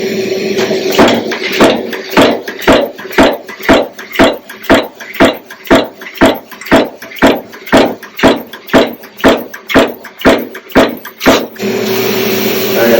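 A 40-ton press stamps brass whistles from a fed coil, pounding in a steady rhythm of about twenty heavy, evenly spaced thuds over a constant machine hum, loud and close, with no talking.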